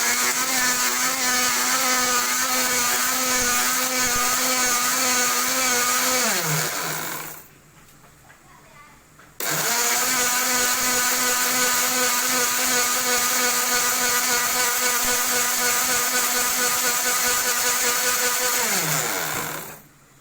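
A mixer grinder whirs loudly and steadily as it grinds garlic into powder, stopping briefly partway through before restarting and running again at full speed.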